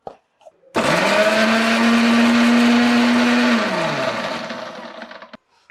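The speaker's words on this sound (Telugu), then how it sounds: "ఇవన్నీ కలిపి నేను మిక్సీ చేస్తున్నాను." A kitchen mixer grinder blends an aloe vera gel mixture for a homemade hair remedy. The motor starts abruptly and whirs loudly and steadily for about three seconds, then winds down and fades.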